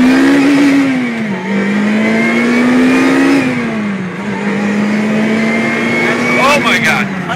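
A 2008 Lotus Exige S sports car accelerates hard, its engine note climbing steadily through the gears with two quick dips at the shifts, loud and close from inside, with excited voices over it.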